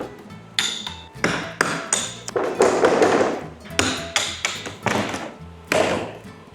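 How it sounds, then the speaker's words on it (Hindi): Hammer and chisel knock at a plastic box inside a van, a string of sharp, fairly close metallic strikes spaced irregularly, some in quick pairs, with no talk. "तो भैया लिया है हथौड़ा छेनी, अब उसके साथ ठोक कर अब इसको निकालेंगे।"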